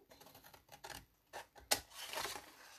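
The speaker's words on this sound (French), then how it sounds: "J'ai pris les gros ciseaux, ce qui n'est pas mon habitude." Large scissors cut through paper while a card pouch is being crafted, giving a few quiet, close snips and rustles with short scraping strokes and no talk.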